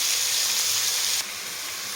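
Ridge gourd pieces fry in a pan over a medium flame, giving a loud, steady hiss and sizzle that drops a little in level partway through, with no voices.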